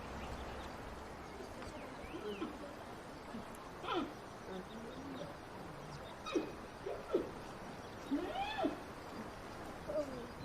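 Giant panda in a Chinese breeding setting gives several loud, wavering chirps and moaning calls spread across the clip, rising and falling over steady background noise.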